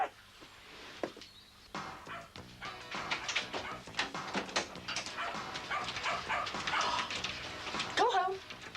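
A dog barks, yips and whimpers close by in short, restless bursts, with voices talking over the noise.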